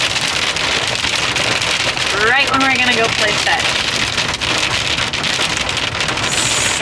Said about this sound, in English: Of course, it starts dumping rain